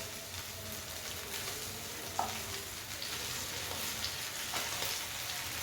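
Anchovy pieces frying in oil on a tawa, a steady soft sizzle throughout with a few faint clicks of turning.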